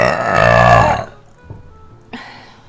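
One long, loud, deep burp right up close, lasting about a second, followed by quieter mouth and throat noises.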